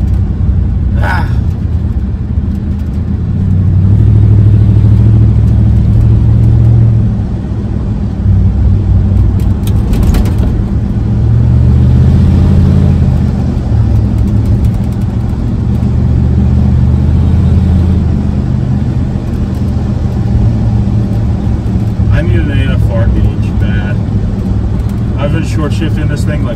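A 400 hp bullnose Ford truck engine on a cold day drones steadily and loudly, its low rumble swelling and easing as the driver revs and shifts through the gears.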